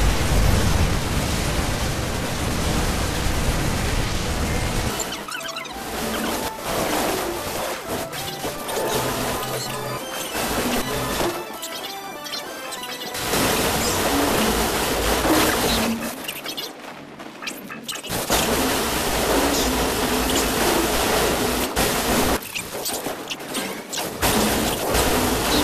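Buildings being destroyed in StarCraft 2, a dense, loud barrage of overlapping crashes, explosions and crumbling impacts running almost continuously, broken by a few brief quieter gaps.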